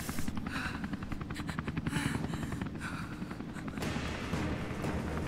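Helicopter in the video game Rise of the Tomb Raider, a loud continuous rhythmic rotor chop mixed with booming gunfire and explosion-like bursts throughout, with no talking.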